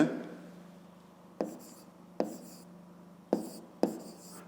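A pen writes the answer to a fifth-grade maths exercise, with soft scratching strokes and several sharper taps as it touches down, close and quiet over a steady low hum.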